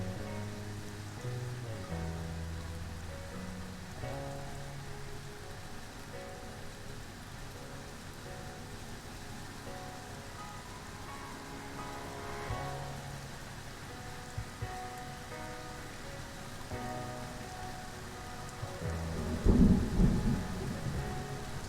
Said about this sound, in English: you will hear some thunder and lightning soon